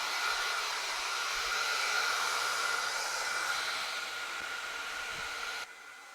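A hair dryer blows steadily at close range to dry freshly painted wood on a china cabinet, a constant airy whine and hiss that runs unbroken, then drops slightly in level near the end.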